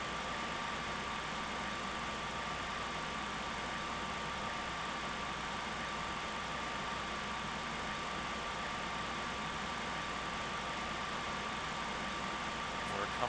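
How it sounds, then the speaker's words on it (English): The engines of an MD-80 airliner in the Prepar3D flight simulator run throttled back as a steady, unbroken drone with a faint constant whine, alone and even in level for the whole stretch. "Throttling the engines back."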